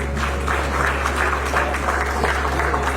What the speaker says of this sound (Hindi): आप सबके लिए एक बार जोरदार ताली हो जानी चाहिए